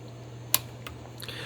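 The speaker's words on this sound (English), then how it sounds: "So I'm going to take a photo and advance the film." A Nikon F3 film camera's shutter release and film advance: one sharp, close click, then a few softer, quieter ticks of the advance mechanism, with no talking.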